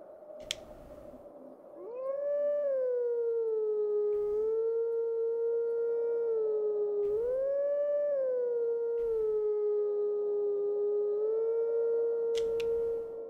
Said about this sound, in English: I have to press A to howl